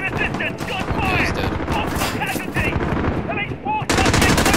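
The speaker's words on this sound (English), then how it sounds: "Gunfire!" Rapid bursts of automatic gunfire in the video game Call of Duty: Modern Warfare, Piccadilly mission, crackle nonstop and loud, with brief shouted voices and electronic chirps mixed in.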